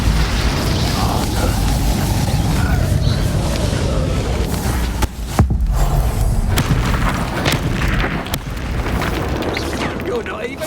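Spell blasts such as Confringo and Expulso in the video game Hogwarts Legacy, repeated booming bursts and crackling impacts in a dense, continuous combat din, with voices calling out during the fight.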